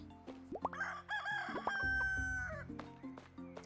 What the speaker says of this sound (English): Good morning, rooster.